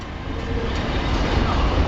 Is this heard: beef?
no